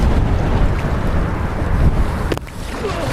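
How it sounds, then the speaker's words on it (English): Strong headwind buffets the microphone on a small boat out on open water, a loud, constant roaring gust with splashing water underneath. "trying to take that headwind head on."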